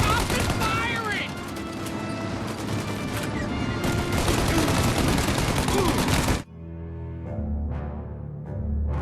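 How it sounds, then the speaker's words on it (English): Heavy gunfire in Mafia Definitive Edition, a loud sustained fusillade of rapid shots over battle noise for about six seconds, then cutting to quieter ambience with a few scattered distant shots. "Shoot now while we got the chance!"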